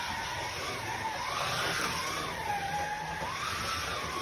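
A Scalextric Porsche 911 GT3 slot car runs steadily around the track, a continuous thin electric motor whine rising and falling in pitch as it speeds along the straight and eases off on the bends.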